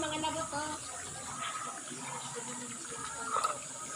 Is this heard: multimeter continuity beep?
no